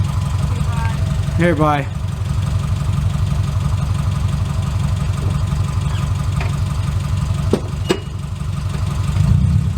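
A Subaru car idles steadily with a low, even engine rumble throughout, while people exchange goodbyes over it and a brief chirpy sound cuts in near the start.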